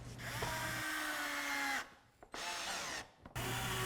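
A power drill drives 2.5-inch stainless steel screws into pre-drilled wood for a workbench base, three whirring bursts that rise in pitch as each screw goes in, separated by short pauses.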